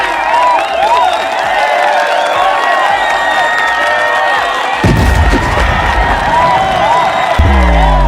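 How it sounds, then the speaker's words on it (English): A crowd cheers, whoops and claps loudly throughout, with excited voices and shouts layered over steady applause. "Give him some hand claps for this"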